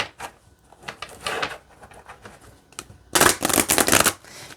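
Oracle cards in an Anne Stokes Gothic deck being shuffled by hand, with quieter riffling bursts early on, then a loud, dense close-up flurry of rapid flicks near the end.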